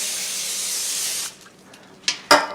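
A steady burst of aerosol cooking spray hisses onto a baking sheet for over a second, then stops, followed by a couple of brief clicks and a sharp tap.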